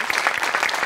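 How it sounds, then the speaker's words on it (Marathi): Loud, dense applause from a studio audience at a Marathi comedy show, a steady roar of clapping that fills the whole short stretch without a break. "मोठ्यांसाठी पण प्रचंड टाळ्या"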